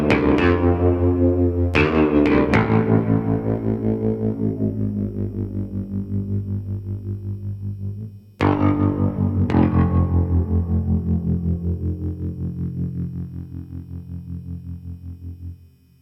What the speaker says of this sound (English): That's exactly right. That's a baritone guitar.